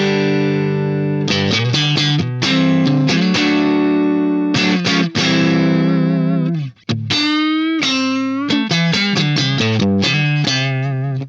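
Electric guitar riffing through a Soldano SP77 amp with an 8.5 dB clean boost in front, a loud, steady stream of chugging, gain-heavy chords and choppy stops, with a brief single-note line in the middle.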